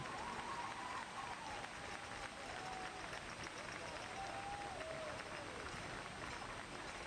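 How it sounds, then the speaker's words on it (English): Steady crowd applause from a college football game crowd fills the whole stretch, a dense wash of clapping with a voice faintly audible underneath. "a big round of applause for the Tiger seniors and their families"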